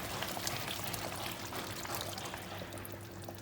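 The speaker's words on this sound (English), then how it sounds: "Now we'll add in the milk." Milk poured into a thick chicken curry in a pot, a steady liquid pour lasting a few seconds, fairly quiet and close with no talking.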